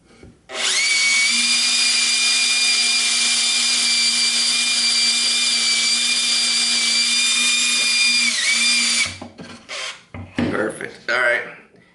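A power drill whines steadily at high speed for about eight seconds boring into a cabinet drawer front, then stops, followed by some clattering handling noises.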